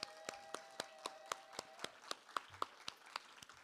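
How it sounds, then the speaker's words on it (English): Sparse, evenly spaced claps at a faculty literary presentation, about a dozen sharp hand claps in a steady rhythm, faint and somewhat distant in a quiet room. "Applause."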